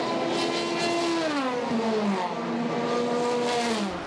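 Endurance race cars, LMP2 prototypes and a Ferrari, scream past on the Silverstone circuit near Chapel Curve and the Hangar Straight, engine notes rising and falling with shifts and Doppler sweeps, loud and continuous.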